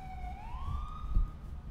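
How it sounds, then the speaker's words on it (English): An ambulance siren in GTA IV with the LCPDFR police mod, a single rising wail sweeping upward at moderate distance, fairly faint over low rumbling traffic noise. "That's an ambulance."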